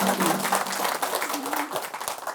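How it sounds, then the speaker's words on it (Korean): Audience applause at a Buddhist dharma talk: a steady wash of clapping across the whole stretch, fairly loud and close, with a voice faintly mixed in underneath. "박수치려 치기도 하고 그러네."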